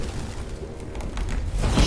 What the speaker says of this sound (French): Saloperie de pigeon de merde!